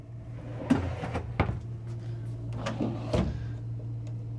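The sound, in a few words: drawers opening and closing in an RV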